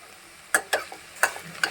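Ponnaganti leaves fry in a pan as a spoon stirs them, giving four or five quick, close scraping strokes over a faint, quiet sizzle.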